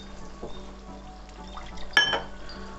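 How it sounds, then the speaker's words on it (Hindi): A little water is poured into a cooking pan of frying masala, with a short clink and splash near the end over a faint background sizzle. "थोड़ा सा इसमें पानी डाल के जो एक्स्ट्रा वाला है ना वो भी इसमें डाल देंगे।"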